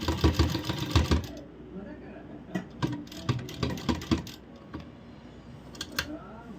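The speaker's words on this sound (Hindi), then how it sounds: "डालने के बाद ऊपर से हम सिलाई लगाएंगे।" A sewing machine stitches leftover lace onto a collar kurti in short mechanical bursts, loud near the start and then in intermittent runs, with a voice speaking over part of it.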